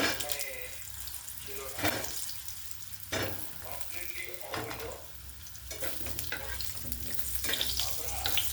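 Potatoes frying in leftover oil after rohu fish in a village kitchen, a soft steady sizzle with stirring clatter and intermittent scraping, heard up close under quiet background sounds.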